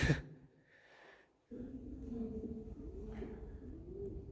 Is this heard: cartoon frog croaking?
no